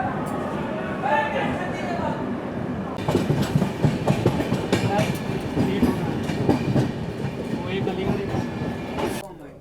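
The Poorva Express rumbles along with steady clickety-clack of wheels on rails, a loud, dense rolling roar that intensifies after a few seconds, with a voice speaking faintly underneath.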